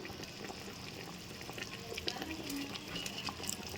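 Half-boiled rice being tipped and spread into cooked chicken for dum biryani, a soft continuous rustle and patter of grains with faint stirring and moist sizzle, steady and close.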